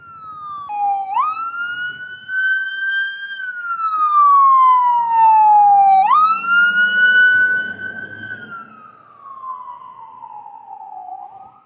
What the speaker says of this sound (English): What is that ambulance for?